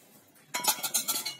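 A metal tempering ladle for seasoning, bought for 120 rupees, clinks and rattles against utensils in a quick burst of bright metallic knocks close by, after a quiet start.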